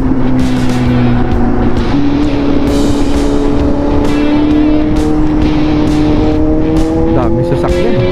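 Dense expressway traffic rushes past a motorcycle rider wearing an AGV K1 full-face helmet, a steady loud roar of engines and wind with rising engine tones, continuous throughout.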